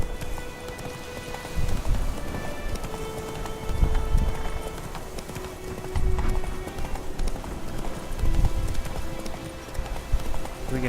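Roach, the horse in The Witcher 3, galloping in a steady rhythmic clip-clop of hooves, close and continuous, with low thuds recurring every couple of seconds and faint ambient noise beneath.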